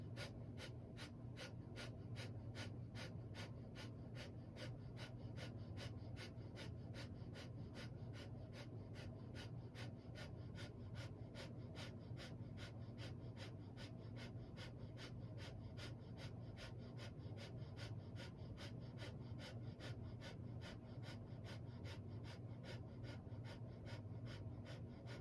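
Powerful rhythmic breaths driven into the navel during a seated yoga exercise for the belly, a steady run of quick, even pants repeating through the whole stretch over a low background hum, with no talking.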